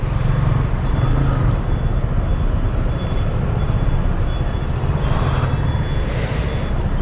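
Dense Bangalore road traffic heard from a Yamaha R15 V3 motorcycle on a solo touring trip, a steady loud rumble of engines and wind noise with a faint air-brake hiss, no talking.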